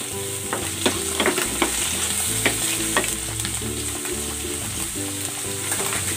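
Onion and sliced mushroom fry in hot oil with pork, a loud, steady sizzle close by, broken by scraping and clattering stirring strokes, with no voices.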